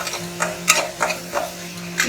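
Masala frying in oil in a pan for a brinjal curry, with rhythmic stirring scrapes every fraction of a second over a steady low sizzle and faint hum, close and moderately loud.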